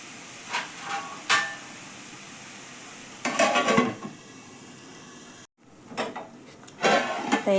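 Green chili and garlic roast in a pan for a fresh pigeon pea curry, with a soft background sizzle broken by sharp clinks and scraping of a utensil against the pan in several bursts.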